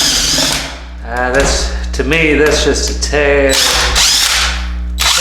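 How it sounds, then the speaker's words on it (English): A power drill spins a mixer paddle through thick drywall mud for a cathedral ceiling, its steady whine rising and bogging under strain close by, while someone talks over it. "Take your drill and your mixer, let's see it."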